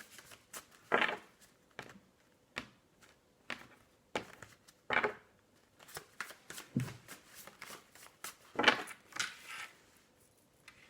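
Tarot cards shuffled and drawn by hand for a daily reading, giving quick close riffling bursts and soft slaps of cards being laid down, spaced irregularly with no talk.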